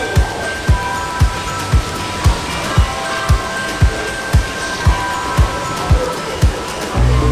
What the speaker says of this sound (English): Hear the sound of the river.